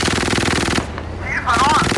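Rapid bursts of machine-gun fire from a Leopard 1A4 tank in the PC game Gunner Heat, loud and dense at the start and end with a brief lull between, as radio voices sound faintly underneath.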